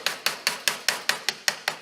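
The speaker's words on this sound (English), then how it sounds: "Hammer and chisel. We are going to break the outer table of the" Hammer driving a chisel into the outer table of a human skull: nine sharp, evenly paced metallic strikes, each with a quick ringing decay, close and clear with no voices.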